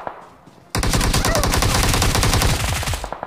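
Sustained automatic gunfire in BGMI/PUBG, a loud rapid burst of shots that starts abruptly after a quiet moment and rattles on for a few seconds before cutting off.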